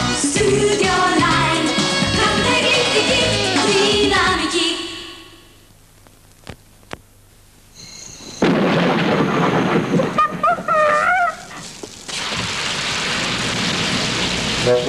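Rain and a crashing thunderstorm in a 1989 Greek TV commercial for Uniroyal rain tyres follow a stretch of music and a quiet pause, then burst in as loud, roaring broadband noise.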